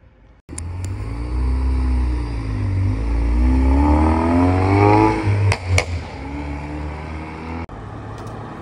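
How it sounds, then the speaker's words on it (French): A Simca Rally 3, a classic rally and hill-climb car, drives past at Gérardmer with a loud rising engine note that swells as it nears and fades as it goes by, with no talk over it. "je vous filme cette petite Simca Rally 3, voiture assez mythique pour le rallye et les courses de côte"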